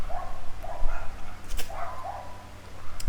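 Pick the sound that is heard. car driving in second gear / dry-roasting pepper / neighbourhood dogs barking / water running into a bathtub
neighbourhood dogs barking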